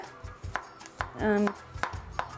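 Onions and garlic chopped for bruschetta with a knife on a board, a series of close, crisp cuts in a loose rhythm, one longer ringing scrape in the middle.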